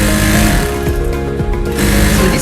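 A sewing machine stitching a school uniform skirt, a loud, close, fast mechanical whirr with steady needle rhythm that eases briefly mid-way before running at full speed again, with no talk.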